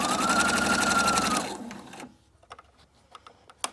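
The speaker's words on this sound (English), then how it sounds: "So I'm going to keep sewing down." A sewing machine stitches fabric for a Bible cover in a fast, steady mechanical run for about a second and a half, then stops, leaving a few faint clicks and handling sounds.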